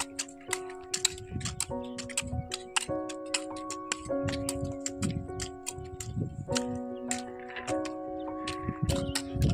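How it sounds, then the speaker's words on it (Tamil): A hand hoe strikes soil while peanut seeds are sown, giving a steady run of sharp ticking knocks with dull low thuds, under a sustained melodic tone that shifts pitch in steps. "அழகாக கொத்தில் கொத்தி ஒவ்வொரு பருப்பாக உள்ளே வைக்கிறாங்க பாருங்கள்."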